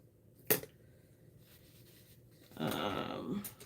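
Metal scissors picked up and set down at a craft or nail table: a sharp click, then a longer rustling, scraping clatter, quiet and close, with no talking.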